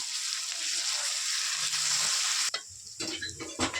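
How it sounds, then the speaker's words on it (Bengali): Garlic paste fries in hot oil for a Bengali egg curry, giving a loud, bright, continuous sizzle. Partway through it drops sharply and gives way to uneven stirring scrapes and crackles. "এবার আমি রসুন বাটাটা দিয়ে দেব, দিয়ে ভালো করে লাল লাল করে ভেজে দেব।"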